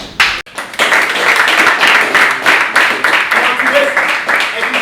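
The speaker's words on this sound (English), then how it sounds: "A round of applause for that answer." An audience at a reality TV show debate breaks into a loud, sustained round of clapping, dense and continuous for several seconds after a short pause at the start.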